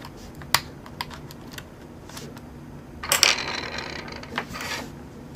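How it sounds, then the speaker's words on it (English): A wireless card is pried out of a Sony Vaio laptop. Small plastic clicks and taps lead up to a cluster of snapping, scraping sounds as it releases, then a few lighter clicks. Everything is close and fairly quiet. "Alright, let's pop this thing out. This wireless card out."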